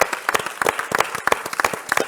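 A small audience claps, the claps coming in an uneven patter that stays moderately loud throughout.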